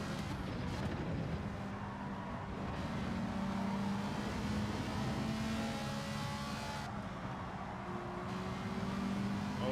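A Ferrari engine roars steadily in a Gran Turismo 7 race, a continuous loud drone with slight pitch shifts as the car holds speed, alone without talk.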